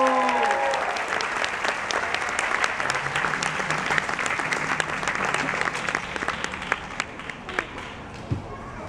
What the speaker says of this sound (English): Ladies and gentlemen, please a big round of applause for Halo Kaliko Pua o Kalani Akea